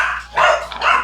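Several dogs bark in a quick burst, loud and close, with two or three overlapping yelping volleys and no talk over them.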